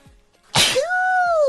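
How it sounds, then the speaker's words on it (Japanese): A single sharp sneeze bursts out close to the microphone, and a short voiced cry trails off after it. It stands alone after a near-silent lead-in. "あ、くしゃみ出そう"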